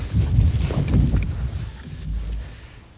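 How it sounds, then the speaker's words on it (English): Low rumbling wind buffets the microphone in gusts on a morning turkey hunt, loudest at first and easing off, outdoors with no talking. "what a beautiful morning. Just a little windy."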